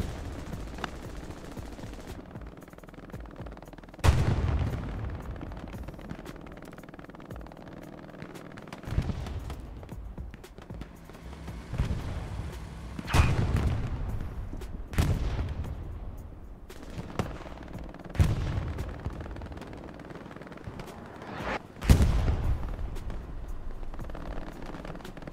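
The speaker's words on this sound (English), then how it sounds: "That artillery." Booming artillery shells land again and again in Hell Let Loose, a World War II shooter, with heavy blasts every few seconds over a steady rumble of distant battle.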